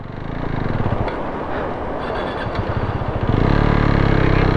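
Vehicle engine laboring under throttle on a rough mountain road between Kaza and Manali: a loud, dense rumbling drone that climbs and thickens near the end as more accelerator is applied.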